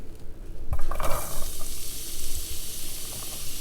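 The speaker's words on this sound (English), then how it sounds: "First, add your onion to the pan." Chopped onion hits hot olive oil in a pan on high heat, setting off a sudden sizzle that settles into a steady, close frying hiss with a few clinks from the pan.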